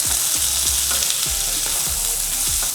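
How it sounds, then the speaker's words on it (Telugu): Beans with salt and turmeric tossed in a hot pan, frying loudly with repeated stirring scrapes in a steady rhythm, close up and alone. "ఇవన్నింటిని వేసుకొని ఇందులోనే రుచికి సరిపడంత ఉప్పు పావు టీ స్పూన్ వరకు పసుపు వేసుకొని వీటన్నింటిని ఒకసారి బాగా కలిపేసుకుందాం"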